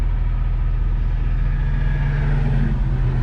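A Gran Torino car drives through the mountains of North Carolina, its engine a steady low rumble with constant road noise from inside the cabin and no talking.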